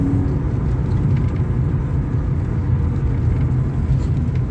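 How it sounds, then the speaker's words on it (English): A BMW E36 328i accelerates in third gear, its engine a loud, steady, close low rumble heard from inside the car, with no talk over it. "Third gear, we'll open her up a little bit."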